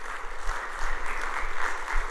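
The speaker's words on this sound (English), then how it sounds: "How about a round of applause for our president again" Sustained audience applause at a summer conference honoring the president, a soft, even patter of many hands clapping at moderate distance for about two seconds.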